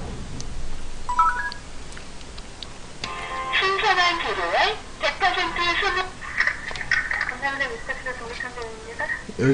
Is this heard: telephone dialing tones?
yes